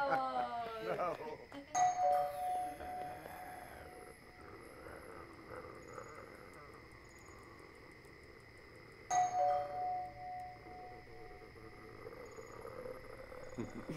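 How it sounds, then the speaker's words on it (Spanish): A doorbell rings twice, a short bright chime near the start and another partway through, over a quiet room with a soft background hum and no clear talk. "es el timbre"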